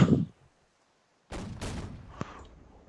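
A short burst opens the clip, followed after a pause by a few loud booming shots and a sharp crack, with rumbling decay between them, gunfire in a naval warfare video game.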